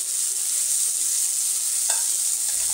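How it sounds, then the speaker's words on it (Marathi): Chopped bottle gourd sautés and sizzles in a hot pan, a steady bright frying hiss with a brief stirring scrape partway through. "हिला थोडंसं असं व्यवस्थित परतून घ्यायचं आहे, एक अर्धा मिनिटभर।"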